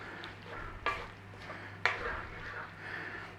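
Kale being stirred through a simmering sausage and bean stew in a single pot, with soft wet scraping and a low bubbling bed, plus two sharper clinks of a utensil against the pot.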